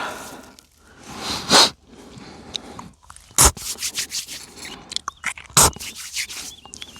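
Rhythmic wooden rubbing and grinding of a primitive hand drill spinning against a fireboard to make fire, in short bursts with pauses, close and fairly loud.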